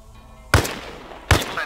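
Two loud, sharp gunshots in Arma Reforger, spaced under a second apart, each with a booming low thump and a short echoing tail, over faint background noise and no talk.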